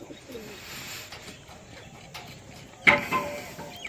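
Pet pigeons kept at home coo softly in a low murmur, with a sharp clatter near the end and faint background noise.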